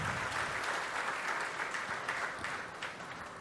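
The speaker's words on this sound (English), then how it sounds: "let's have a huge round of applause once again for Mr." Sustained audience applause fills a hall at a Bajaj Dominar 400 motorcycle launch event, a dense, steady wash of many hands clapping at moderate distance with no voices on top.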